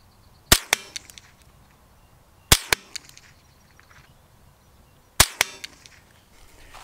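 Three sharp .22 Savage rifle shots fired outdoors at a 100-yard target, spaced about two seconds apart, each a loud crack with a brief echo trailing off.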